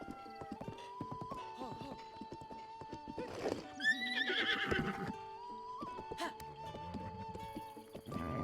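A horse in The Legend of Zelda: Breath of the Wild whinnies loudly in the middle of the scene, with clip-clopping hooves and game music, and a voice speaks faintly nearby.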